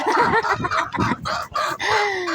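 Several chickens cluck and squawk busily close by, overlapping calls filling the clip with dense, continuous farmyard noise.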